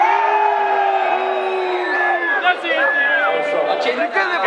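A live audience, many of them young, shouts and cheers in answer to a FIFA-versus-Pro Evolution poll, a dense wall of overlapping voices with rising whoops throughout.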